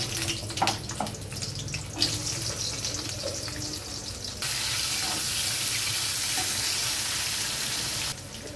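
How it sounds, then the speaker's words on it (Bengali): Vegetables for shukto frying in hot oil, one batch after another, giving a steady hissing sizzle that turns louder and brighter partway through and then eases off near the end, with no voices. "সবজিগুলো একে একে সবজিগুলো আমি ভেজে নেব।"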